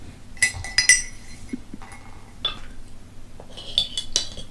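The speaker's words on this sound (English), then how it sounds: "Give it a bit of a stir." A spoon stirs a cup of tea, giving several bright clinks against the cup in two or three quick clusters, near and fairly clear with no voices.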